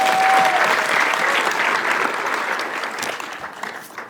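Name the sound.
audience applause at bar admission ceremony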